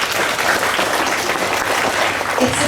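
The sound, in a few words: applause for children speakers at school assembly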